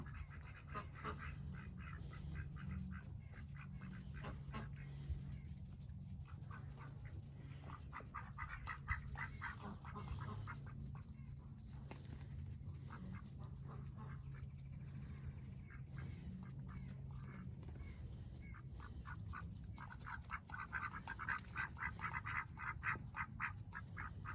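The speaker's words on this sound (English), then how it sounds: "Ducks are strange." Several ducks quack in repeated nasal bursts of grouped calls, faint and distant over a low steady outdoor rumble, with some honking mixed in.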